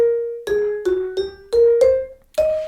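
Vibraphone playing a jazz solo phrase from a standard, a run of about seven struck, ringing mallet notes with sustained shimmering decay, close and clear with no talking.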